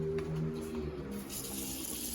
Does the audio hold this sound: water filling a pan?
yes